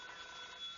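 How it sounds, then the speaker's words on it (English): A telephone rings in a 1944 old-time radio comedy broadcast: a brief, steady electric bell tone that sounds alone and fairly clear, with no talk over it. "Answer the phone."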